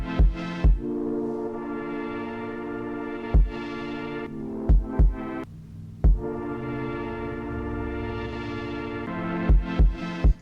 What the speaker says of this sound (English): when the kick is playing, the volume of that pad is ducking down and getting out of the way